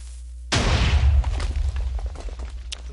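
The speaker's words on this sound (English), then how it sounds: "Let's test the cannon." A single deep boom from a video game cannon erupts suddenly, followed by rumbling debris and scattered crackles fading away.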